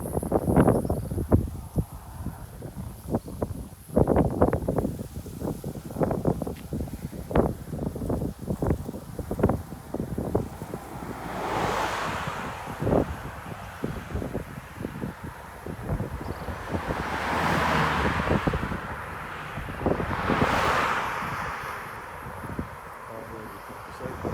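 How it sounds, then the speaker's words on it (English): Country breeze buffeting a handheld microphone outdoors at a chapel near a memorial garden in Barbados, coming in rumbling gusts that swell and fade while someone talks over it. "See all the country breeze blowing on me now."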